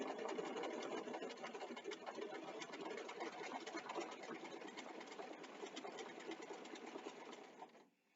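A sewing machine runs steadily and close by for about eight seconds, sewing a long basting stitch down a seam for a centered zipper, then stops abruptly at the end.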